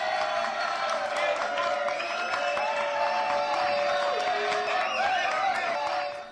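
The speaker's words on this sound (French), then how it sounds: "Applaudissements, s'il vous plaît" Studio audience on a French TV talk show breaking into sustained applause and cheering, a loud dense crowd wash of clapping with whoops, over a bright music bed, fading out at the end.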